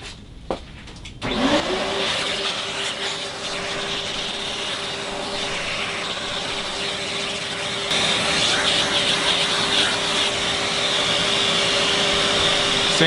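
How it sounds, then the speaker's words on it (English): A vacuum cleaner runs steadily right up close with a steady high whine, sucking stain dust off a Paulownia guitar body, starting after a short burst of rustling and staying loud and constant throughout. "I'm gonna vacuum this up."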